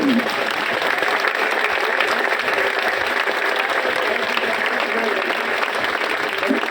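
A crowd of striking municipal workers claps loudly at a protest rally, dense continuous applause that fills the whole stretch, with voices mixed in underneath.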